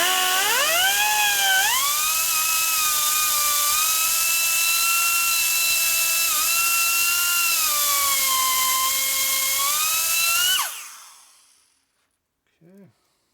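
A high-speed grinder works on a 1947 Harley knucklehead motor case with a loud, steady whine that shifts in pitch for about ten seconds, then spins down, followed by a brief quieter whir.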